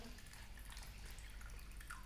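Hot water poured by hand into a container of soaking paper pulp during papermaking, a soft, steady trickle of liquid at low volume lasting about two seconds with no speech.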